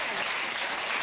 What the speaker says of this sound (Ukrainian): я не розумію, чому зараз лунають оплески